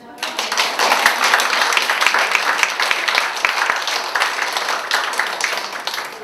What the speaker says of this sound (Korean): 진심으로 이건 박수 한번